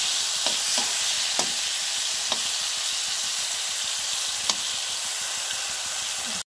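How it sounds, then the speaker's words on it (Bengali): Brinjal slices rubbed with salt and turmeric fry in a pan, giving a steady, dense sizzle throughout with a few faint clicks and taps of a utensil, loud and continuous with no talking. "একটু লবণ হলুদ মাখিয়ে ভাজা করে নেব"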